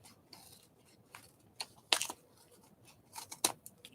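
Scissors snipping through product packaging during an unboxing, a few sharp crisp cuts and crinkles spaced irregularly, close and fairly quiet.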